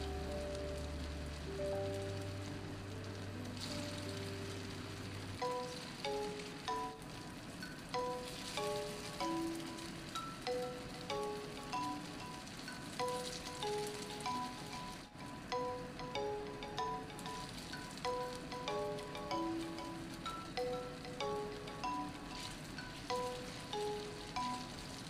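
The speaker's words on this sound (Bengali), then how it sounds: "এবার আমি এগুলোকে ফ্রাই করে নেবো" Sabudana pakoras deep-fry in hot oil, a soft continuous bubbling crackle like light rain running throughout, faint and partly under a plucked instrumental melody.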